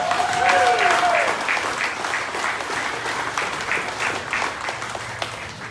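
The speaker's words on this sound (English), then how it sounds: "please a round of applause for my good brother, former Senator Tomas Pangilinan Villalobos Tito" An audience applauds for a former senator at a gubernatorial candidacy announcement, steady dense clapping throughout, with a brief voice or tone early on.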